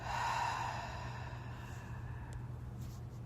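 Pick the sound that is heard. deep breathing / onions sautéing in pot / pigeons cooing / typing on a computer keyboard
deep breathing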